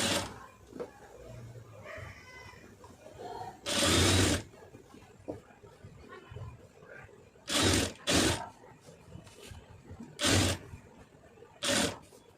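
A sewing machine runs in several short bursts of stitching along the folded lining of a neckline, each run about a second long, with quieter handling sounds in between.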